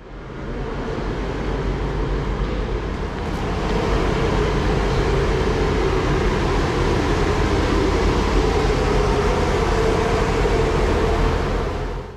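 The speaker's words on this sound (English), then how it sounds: "Our train arrives from the Welsh capital Cardiff on time." A GWR HST train arriving from Cardiff at Bristol Temple Meads station gives a loud, steady rumble of engine and wheels that swells slightly after a few seconds and holds, with no talk over it.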